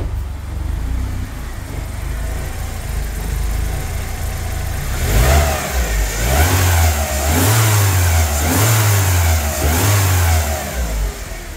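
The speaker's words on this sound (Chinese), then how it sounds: "现在车热了，怠速也掉下来了" A warmed-up car engine idles steadily after its belt tensioner was replaced, a smooth low hum that swells with a few brief rev-like pulses, close and loud with no talking.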